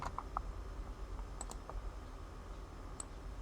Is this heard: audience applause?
no